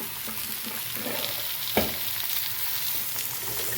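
Chopped snake gourd is stir-fried and stirred in a pan for upperi, giving a close, steady sizzle with soft scraping strokes and one sharper knock partway through, with no talking.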